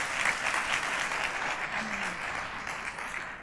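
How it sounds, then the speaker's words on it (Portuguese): An indoor audience claps for volunteers at a religious teaching session, a dense, steady round of applause that stays fairly loud throughout, with a faint voice briefly audible beneath it. "Primeiro uma salva de palmas para essas queridas irmãs."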